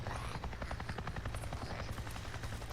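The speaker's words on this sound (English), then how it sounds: "We got the sound of a helicopter." Helicopter in the video game Days Gone, a steady loud rotor chop with rapid rhythmic thumping throughout, close and unbroken, with no talking over it.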